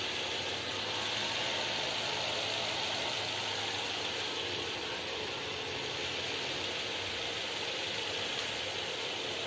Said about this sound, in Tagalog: Andarin na po natin ang mga ilang minuto guys para talagang mag-prepare yung kanyang langis sa buong engine